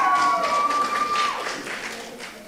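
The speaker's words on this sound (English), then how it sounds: "Can we get a round of applause for the contestants?" A live audience claps for quiz contestants at a Bible Quest final, a dense, steady patter of hands that fades slightly toward the end, with a thin whistling tone early on.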